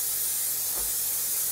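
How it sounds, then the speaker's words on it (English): A short hissing burst of cooking spray oil, a quick aerosol spritz rising out of a steady background rush of a gas stove flame. "add a little bit of spray oil, but away from the flame"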